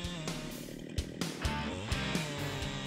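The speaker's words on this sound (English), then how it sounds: "people always rely on the power of the Husqvarna" A Husqvarna 395 XP chainsaw cuts rain trees near rice fields, its engine droning steadily with several sharp bursts and revs as the chain bites into the wood.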